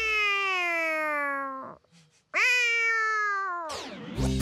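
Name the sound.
cat imitating a derestricted scooter being started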